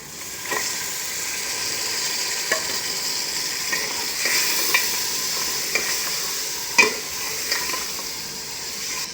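Desi chicken meat fries in a pan with a steady sizzle while it is stirred, with occasional sharp clicks of a utensil against the pan.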